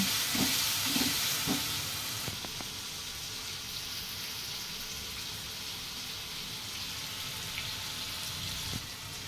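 Ginger-garlic paste fries with salt and powdered spices in a pan, giving a steady soft sizzle and hiss with a few faint stirring clicks. The level is fairly quiet and even throughout, with no speech.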